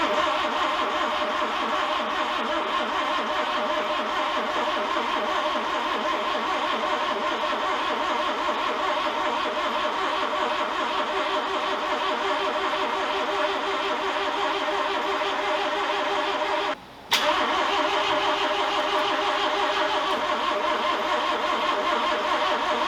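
A Mazda RX-7 rotary engine cranks steadily without firing, the starter churning in a fast, even rhythm for a long stretch, close and loud, with one brief dropout before cranking resumes.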